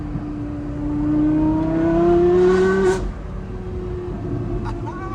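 A Porsche Carrera GT engine rises in pitch through a sustained rev for about three seconds as the throttle snaps, then drops back to a lower steady idle-like drone.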